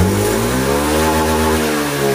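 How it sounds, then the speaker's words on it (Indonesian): A fuel-injected Honda Beat scooter engine revs as the throttle is blipped, the close, loud note rising and holding briefly with no voices. "kita betot gas biasanya ada blebeb atau ampos ya"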